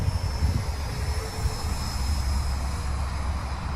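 An XFly T-7A Red Hawk 64mm EDF RC jet flies overhead with a steady, rushing ducted-fan whine over a low rumble of wind. The sound holds fairly loud and even throughout, with no talking.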